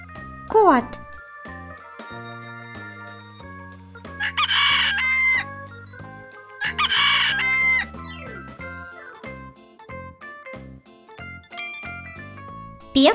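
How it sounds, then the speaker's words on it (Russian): A cartoon rooster crows twice in long, loud cock-a-doodle-doo calls, set against bouncy children's music with other short animal-like sound effects. "Петух."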